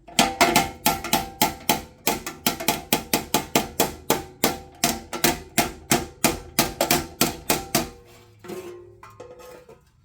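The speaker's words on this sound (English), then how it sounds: "I'm going to get a shorter hammer. Shorter and heavier hammer." A heavy hammer strikes a stuck pulley on a Honda GX390 engine in a fast, steady series of loud ringing metal blows. The blows stop near the end, leaving a few fainter clanks.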